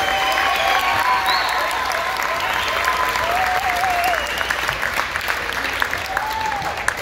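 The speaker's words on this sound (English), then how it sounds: "Let's give him one more round of applause." A high school crowd applauds to honor a veteran wrestling coach, with sustained, even clapping filling the room and a voice cutting through it briefly.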